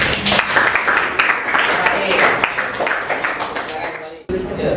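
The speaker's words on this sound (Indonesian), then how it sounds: "Bagus, tepuk tangan." Classroom clapping from students in an Indonesian project-based learning lesson, a steady patter of many hands that cuts off abruptly near the end, with voices mixed in.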